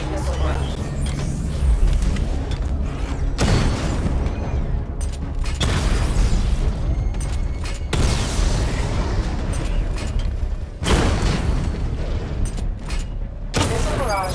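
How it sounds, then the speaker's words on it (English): Missile barrage explosions in Batman: Arkham Knight, a rapid run of heavy booms and blasts as targets are destroyed, loud and close, with a synthetic voice speaking over the continuous rumble. "Destroy targets to charge up weapon energy and activate missile barrage."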